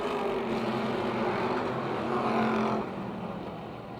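Street stock race cars roar together at Motordrome Speedway, a loud continuous engine drone of several cars running close in a pack, with a slight drop in intensity near the end.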